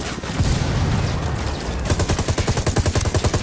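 Sustained automatic gunfire in Ghost Recon Wildlands, a dense crackling burst that gives way after a couple of seconds to a rapid, evenly pulsing stream of loud shots, close and without any talking.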